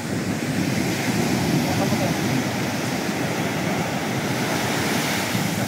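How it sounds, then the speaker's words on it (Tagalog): Strong sea waves crash on the shore in a continuous loud roar mixed with gusting wind noise on the microphone, with no voices heard. "Grabe ang alon."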